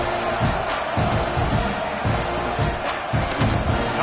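A home crowd at a college football stadium in Alabama vs. Texas A&M roars in a steady, dense wall of cheering, with rhythmic thumps and swells of shouting throughout.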